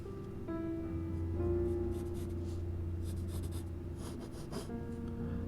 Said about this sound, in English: We're going to draw it straight up and down, parallel with the edge of your paper perhaps.